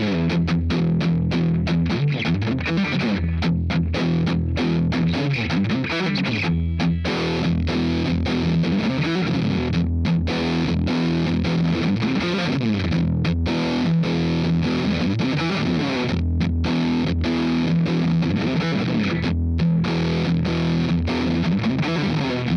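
Heavily distorted electric guitar plays continuously, chugging rhythmic chords with a thick, saturated tone and brief palm-muted gaps, loud and close.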